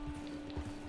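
Horse running in the Red Dead Redemption 2 video game, with soft rhythmic hoofbeats thudding steadily at a moderate distance over a constant electronic hum, no talk over it.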